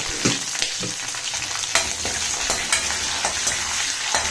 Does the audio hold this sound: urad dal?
yes